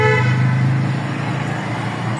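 A car horn gives one loud, sustained blast during a driving lesson, close up and alone over the faint hum of the vehicle.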